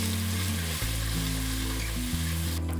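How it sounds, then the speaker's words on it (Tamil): Crushed ginger and garlic sauté in a pan over lower-than-medium heat, giving a steady, dense sizzle and frying hiss throughout with no talking. "இந்த இடித்த இஞ்சி பூண்டை வதக்கிற போது நெருப்பை மீடியத்தை விட குறைவாக வச்சுக்கோங்க"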